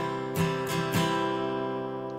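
An acoustic guitar strums a 3-beat waltz pattern, down, down, up, three crisp strokes over sustained ringing chords, played alone and fairly soft.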